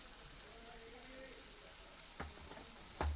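Tomatoes go into a quiet, sizzling potato and brinjal masala with roasted coconut paste, a soft frying hiss with a couple of sharper spitting bursts near the end.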